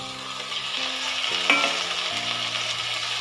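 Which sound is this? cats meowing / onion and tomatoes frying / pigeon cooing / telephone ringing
onion and tomatoes frying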